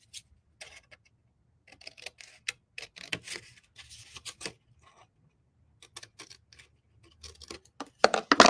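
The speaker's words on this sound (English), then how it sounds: "We're going to cut out this square here at the bottom." Scissors snipping a square out of scored paper for a handmade gift bag, a series of short, crisp cuts in irregular bursts with brief pauses, close up and fairly quiet, ending in a quicker run of snips.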